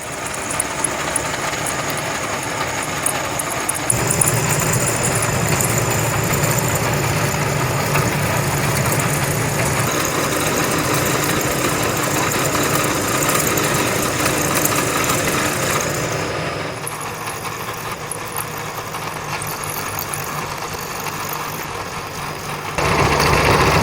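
An end mill on a milling machine cuts a bronze and steel wallet. The machine gives a loud, continuous whir and grinding hum with a steady high whine, and its tone shifts slightly partway through the cut.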